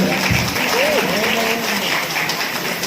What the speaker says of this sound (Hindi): एक बार ताली बजा के आशीर्वाद देंगे